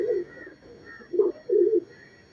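Racing pigeons kept for competition flights coo in a few low, throaty bursts, close by, with soft gaps between calls and no talk.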